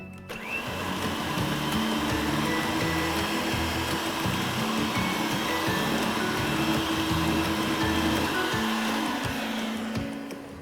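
An electric mixer whirs continuously, blending butter, flour and muffin batter for cranberry, orange and pineapple muffins, a steady close motor drone with slight pitch shifts before it cuts off near the end.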